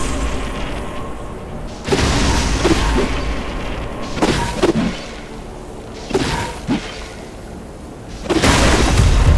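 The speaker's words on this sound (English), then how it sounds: "Great, one statue destroyed" Statue being smashed in the video game Atlas Fallen, heavy booming crashes and impacts in several loud bursts over a rumbling game soundscape.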